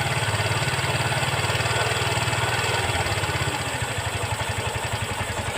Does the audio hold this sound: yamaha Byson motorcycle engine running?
yes